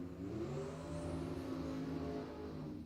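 A dragster at a drag strip during the Cactus Clash racing event, its engine holding a loud, steady, close roar with a rich droning tone for the whole stretch and no break in sound.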